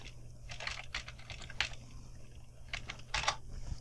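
Keys clatter on a computer keyboard as a short command is typed, a close run of quick, uneven taps in two bursts with a brief pause between.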